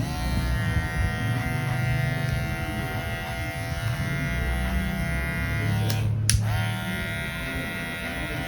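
An electric hair clipper buzzes steadily and close while leveling the hair on the sides of a head during a haircut, with a brief rougher burst partway through.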